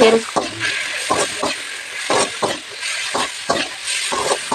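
Eggplant palya with grated coconut is fried and stirred in a pan: a bright, close sizzle with a rhythmic series of scraping spatula strokes, roughly two per second.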